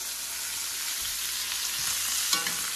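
Venison backstrap searing in a very hot pan, cooked like a steak, giving a dense, continuous sizzle heard up close with a brief sharper spatter near the end.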